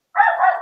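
A single drawn-out dog bark, loud and close, sustained for over half a second with a rough, strained tone.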